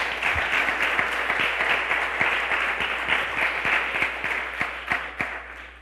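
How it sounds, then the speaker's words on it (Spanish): A church congregation applauds the Lord during a Spanish-language sermon, a steady, dense roll of clapping from many hands that carries on for several seconds with a few sharper claps standing out. "¿Cuántos aplauden al Señor?"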